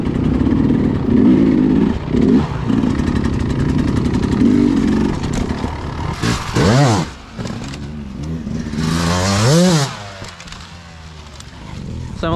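A dirt bike rides over an off-camber log on an off-road trail, its engine loud and revving hard, then it coasts with the clutch pulled in and revs again, with rattling and clatter throughout.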